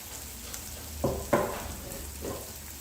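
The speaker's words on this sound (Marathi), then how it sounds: "कांदा हलकासा आपण गुलाबी रंगावरती परतून घ्यायचा आहे" Finely chopped onion sautés in a pan for a mushroom bhaji, a faint, low sizzle with a few soft stirring bumps, heard alone without talk.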